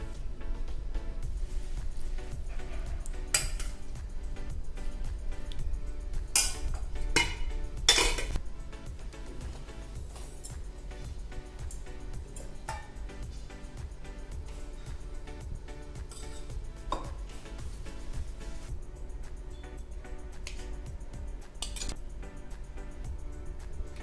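Spoons and steel dishes clink and scrape while tandalja bhaji, an amaranth-leaf dish, is served, with sharp metallic taps clustered early, then sparser clinks over a steady low background hum.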